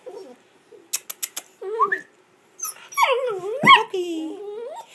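A female puppy gives a few short high yips and soft squeaks, then drawn-out whimpering whines with a low grumble, close up and separated by brief pauses.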